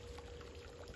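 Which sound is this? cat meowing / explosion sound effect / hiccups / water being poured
water being poured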